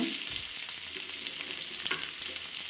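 Onions fry in a pan with dried and green chillies for an Andhra-style red chutney, a quiet steady sizzle broken by soft stirring scrapes, close up and without talk.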